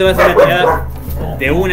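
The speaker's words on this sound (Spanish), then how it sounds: "Perdón por el perro." A dog barks and yips during a Spanish-language tabletop role-playing session, heard close by and tangled with a man's steady speech throughout.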